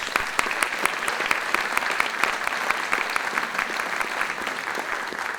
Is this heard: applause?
yes